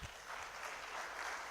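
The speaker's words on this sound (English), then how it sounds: "please give them again a hand of applause" A conference audience applauds, a steady wash of many hands clapping at moderate distance for the whole short stretch.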